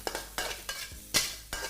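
Kimchi fried rice is stirred in a pan, with several distinct scraping strokes at an uneven rhythm over a soft sizzle, close and fairly quiet.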